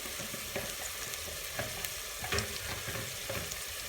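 About 500 grams of chicken breast sizzles steadily in a hot pan with occasional scraping and stirring sounds, close up and continuous.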